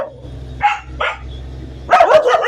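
A pet dog named Brownie barks in short, sharp bursts at close range: two quick barks early, then a rapid cluster of louder yaps near the end, with quiet room noise between.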